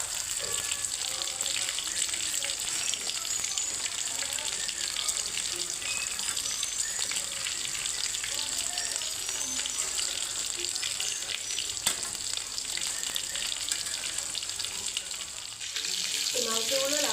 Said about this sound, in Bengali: আমরা এইভাবে ভেজে যাব যতক্ষণ না লাল হচ্ছে। লাল হওয়া অবধি আমরা ভেজেই যাব।